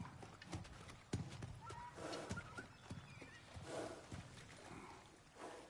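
A horse whinnies and neighs in God of War Ragnarok, with clip-clopping hooves and soft snorts, close and moderately loud over a faint game background.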